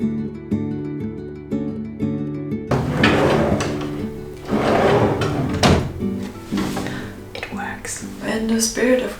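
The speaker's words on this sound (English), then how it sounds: "it was finally time to install the drawer" A cabinet drawer being installed and slid into place, with close wooden scrapes, knocks and sliding runs over soft background music.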